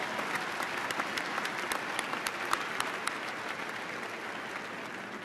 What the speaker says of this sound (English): Let's give a round of applause to the candidates from the College of Architecture and Urban Studies